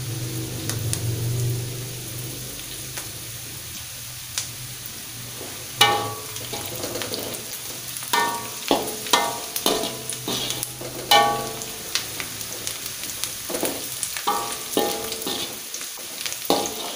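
Capcay ingredients, including onion and garlic, stir-fry in a pan, a soft hiss at first and then busy scraping, clattering stirring over a steady sizzle, with no voices.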